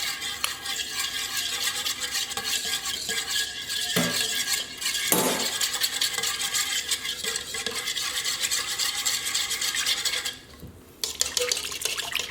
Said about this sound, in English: you whisk it together with a whisk